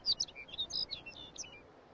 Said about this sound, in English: Its rich warbling song carries through the varying temperatures and winds of the Arctic